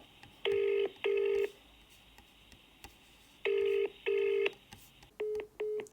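A VoIP office phone dials and rings out unanswered: two pairs of long, loud ringback tones spaced a few seconds apart, then a quicker run of short dialing beeps at the end, with no voices.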